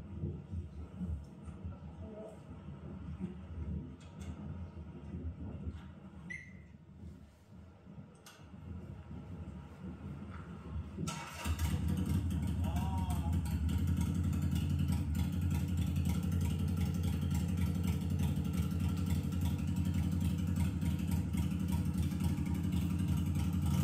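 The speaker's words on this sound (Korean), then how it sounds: "바스 머플러를 네, 장착하셨는데 엔진 소리를 한번 들어보고 싶습니다" A motorcycle fitted with an aftermarket Bass muffler idles quietly, then roars into a loud, deep, steady rumble that holds for the rest of the clip.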